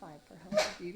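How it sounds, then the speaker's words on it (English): A brief dog bark cuts through a person talking nearby, sharp and moderately loud. "I don't know if you can hear my dog barking."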